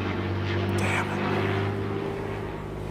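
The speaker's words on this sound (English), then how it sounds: "We live by an airport. Sorry about the planes." Propeller airplanes flying over a home near an airport, a steady low engine drone filling the whole stretch at fairly loud, even level with no talk.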